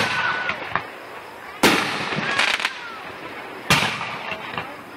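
Fireworks at a family gathering pop and crackle outdoors, with two sharp loud bursts standing out above a steady crackling, and voices faintly beneath.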